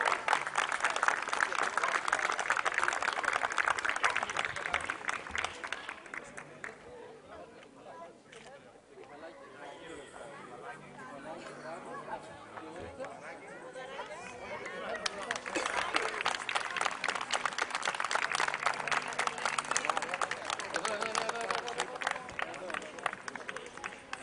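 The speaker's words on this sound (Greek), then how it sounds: "θέλουμε ένα θερμό χειροκρότημα για όλα τα καρδάκια" Audience at a national dog show clapping warmly for young handlers, loud applause that dips in the middle under a voice over a PA and then swells again, with crowd chatter.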